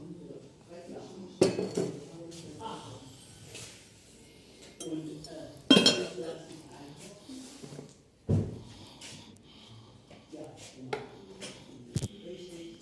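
Porcelain pot clatters and clinks as it is handled in a secondhand shop, with several sharp knocks and scrapes while a person talks throughout.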